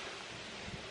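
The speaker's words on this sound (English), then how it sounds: "Ooh, that's a good wind." Steady wind rushes and buffets a microphone on the beach at Naples, a continuous broadband roar with soft gusts and no voices.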